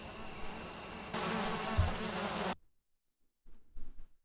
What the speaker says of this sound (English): Now, let's go deal with the bees.